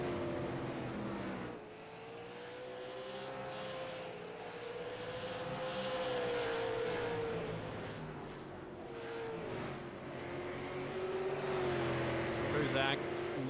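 Race cars lapping New Smyrna Speedway in a racing video game, with a droning engine tone that rises and falls in pitch as the cars pass, under continuous commentary.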